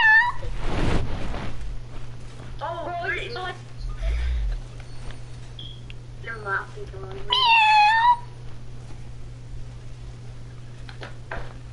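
A cat meows a few times indoors, short rising cries among several people talking and laughing nearby.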